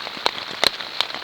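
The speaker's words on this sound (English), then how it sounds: "there's some pretty heavy rain going on outside." Heavy rain drumming steadily on a homemade tarp shelter at a hilltop wild camp, a dense hiss broken by a few louder, sharper drop impacts close overhead.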